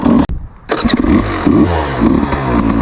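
A 2026 Beta 200 RR X-Pro motorcycle engine starts with a brief crank, catches and settles into a loud, close, steady idle with a few light blips of throttle.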